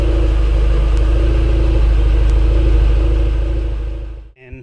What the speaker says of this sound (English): The idle is so smooth.